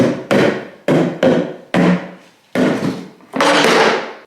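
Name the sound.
knocking on wall panel to fit it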